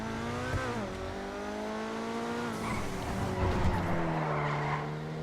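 A Coquette D10 sports car in GTA Online roars and shifts pitch as it accelerates, with tires squealing and skidding through the engine noise.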